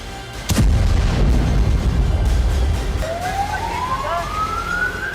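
A rocket attack on Donetsk, with a sharp loud blast followed by a long rumbling roar and a rising siren-like whine over ongoing rumble.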